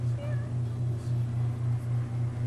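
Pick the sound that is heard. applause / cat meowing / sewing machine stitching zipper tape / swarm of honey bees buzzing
cat meowing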